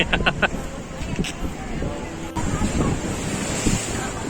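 Roaring surf and wind rush continuously, with waves surging and breaking close by on Nagaon Beach, Alibaug, broadband and loud, and a few voices faintly under the noise.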